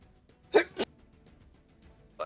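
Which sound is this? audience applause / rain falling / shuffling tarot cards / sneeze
sneeze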